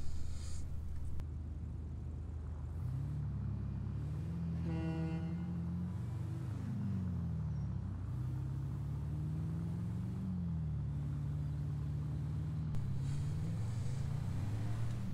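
A Range Rover driven in GTA 5 with a steering wheel rig, its engine a steady low drone throughout as pitch rises and falls with acceleration, plus a brief horn-like tone burst near the middle.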